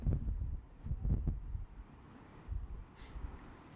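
Low gusts of wind buffet a microphone held outside a city window at Christmas, in rumbling bursts that swell and fade, quiet with no other sounds.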